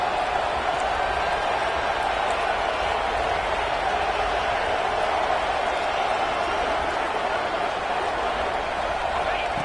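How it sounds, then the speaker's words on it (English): A stadium crowd roars steadily at a football game, urging on the defense for a red zone stop. The sound is a continuous, loud, dense wash of cheering that holds evenly throughout. "This crowd is trying to inspire this defense to make a big red zone stop."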